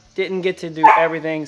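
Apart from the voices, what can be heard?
dog barking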